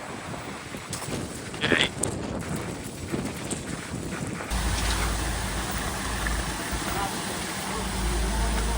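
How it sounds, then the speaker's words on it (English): Strong wind buffets a boat out on the water, roaring and rumbling against the microphone in gusts that grow heavier partway through, while someone briefly speaks. "Look at that wind. Look at there. So much wind, guys, so much wind."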